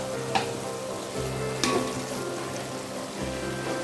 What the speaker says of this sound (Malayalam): നമ്മളിപ്പോൾ വഴറ്റിയ മിക്സിൽ നല്ലപോലെ ഒന്ന് ഇളക്കി കൊടുക്കാം.